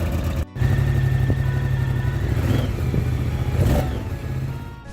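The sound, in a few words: Moto Guzzi Stelvio motorcycle exhaust sound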